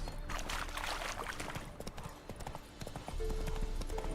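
A horse's hooves clip-clop steadily in The Witcher video game, a close, even trotting rhythm that carries through the whole stretch over a low ambient bed.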